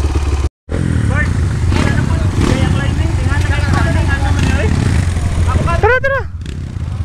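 Motorcycle engine idling on a river trail, a loud continuous throbbing putter with a brief dropout near the start, while voices talk over it.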